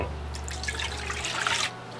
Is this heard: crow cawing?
no